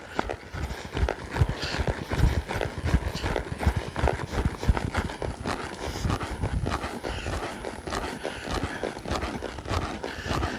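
A horse lopes in steady rhythm under its rider, working to extend its stride, with hooves drumming close and loud on the ground in a continuous clip-clop for the whole stretch.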